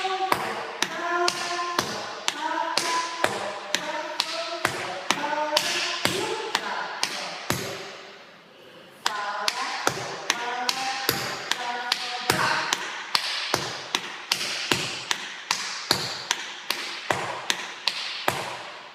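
Tap shoes strike a hard floor close up in quick flap, heel and shuffle-heel steps, crisp clicks in a swung, repeating pattern with a brief pause midway.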